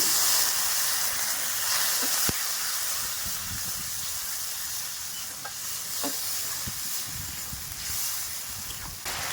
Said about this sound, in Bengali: এই মশলার মধ্যে দিয়ে দিচ্ছি একটুখানি জল